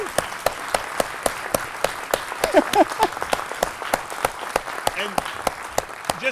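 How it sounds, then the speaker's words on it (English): An audience in a hall applauds family members seated in the front rows, a dense run of clapping with sharp individual claps, some brief voices rising through the crowd noise. "Give them a round of applause."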